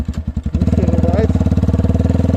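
A Motorhead Scrambler 250 motorcycle runs without its exhaust, loud raw rapid engine pulses that settle into a fast even chugging beat close by.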